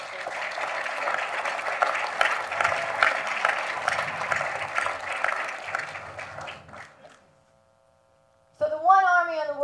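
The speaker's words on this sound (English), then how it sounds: "stand up and take a round of applause, please" Audience at a county's annual address clapping in a hall, a steady burst of applause lasting about seven seconds that fades to near silence, followed by a voice speaking.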